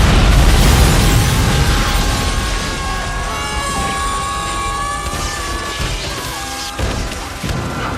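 A big explosion from a Rush Hour action film scene: a loud opening blast that rolls into a long ringing, crashing tail with scattered debris hits, heard alone with no voices.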